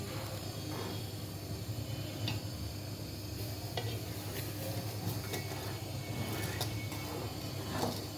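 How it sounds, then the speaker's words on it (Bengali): A pot of date-palm jaggery rice pudding (payesh) is stirred often, with a low continuous simmering bubble and scattered soft scraping taps of the spoon against the pot, fairly faint and steady. "পায়েস যাতে তলানিতে লেগে না যায় সেজন্য ঘন ঘন নাড়তে হবে"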